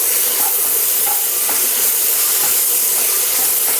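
Ginger-garlic paste, green chillies and curry leaves stirred in a hot pan for a chicken pepper dry fry, giving a steady loud sizzle and hiss with faint scraping throughout, no talking.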